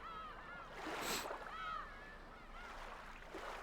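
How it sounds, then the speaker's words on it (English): Seagulls cry in the visual novel game Umineko When They Cry, two or three drawn-out, wavering calls rising and falling over a soft wash of background, fairly faint and with no talking. "I hear the seagulls crying."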